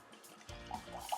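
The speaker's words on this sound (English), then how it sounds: "we're just going to pour" Heaven Hill Bottled in Bond bourbon pours from a freshly opened bottle into a glass, a short close trickle that is quiet and alone, with no talk over it.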